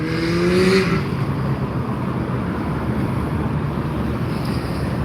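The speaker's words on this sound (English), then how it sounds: "So you hear engines revving all night long." A car engine revs up briefly at the start, then settles into a steady, broadband roar of traffic and wind at moderate distance, at the Automotion 2024 car show in Wisconsin Dells.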